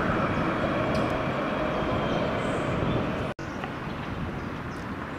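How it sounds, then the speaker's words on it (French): A tram in the city of Caen passes with a steady rolling rumble and a rush of rail noise that holds fairly loud, then drops for an instant and continues slightly quieter. "Le tramway de Caen."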